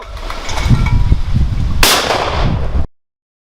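Gunshots fired outdoors with a RECOVAIN spent-cartridge catcher: a run of low thumps and knocks, then one sharp, loud blast, with the sound cut off abruptly just after.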